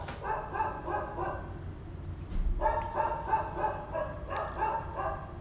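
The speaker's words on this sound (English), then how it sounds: "I cannot even record a video because the dogs are barking too much." Several dogs barking in repeated bursts, a loud run of barks, a short pause, then another sustained volley, fairly close and continuous with no talk over it.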